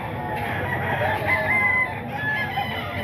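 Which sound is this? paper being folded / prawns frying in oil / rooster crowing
rooster crowing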